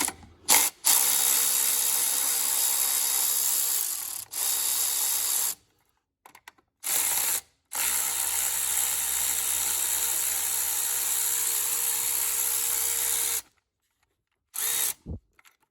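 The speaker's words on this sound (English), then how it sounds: "I've got a electric ratchet here" An electric ratchet whirs in repeated bursts while removing 8mm bolts from the throttle plate housing of an EcoDiesel engine, a loud close buzzing motor that starts and stops several times with short pauses between runs.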